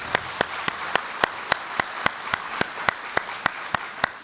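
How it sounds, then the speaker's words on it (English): An audience at a panel event applauds its panelists, with broad clapping overlaid by a steady run of sharp, evenly spaced claps, like one person clapping close by in rhythm. "So, a round of applause for our panelists."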